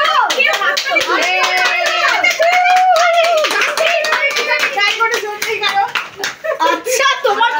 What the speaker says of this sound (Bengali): ওই যে সে হাততালিটা দাও, হাততালিটা দাও